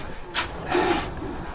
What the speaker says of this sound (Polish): Tyle gołębi jest po sezonie lotowym